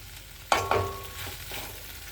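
A spoon stirs pasta sauce mixed with tomato ketchup in a pan, giving two sharp scraping clinks followed by softer faint scrapes over a low, steady sizzle.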